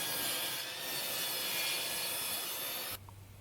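A handsaw cutting a square piece of wood, a continuous close, coarse rasping stroke that carries steadily for about three seconds and then stops abruptly.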